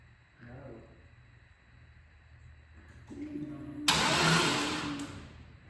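An LT1 Camaro engine turns over with a rough, labored cranking, then catches and roars loudly for a couple of seconds before settling, heard up close.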